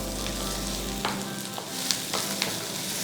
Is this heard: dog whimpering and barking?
no